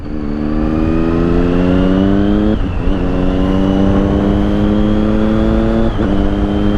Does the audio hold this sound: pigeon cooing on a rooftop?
no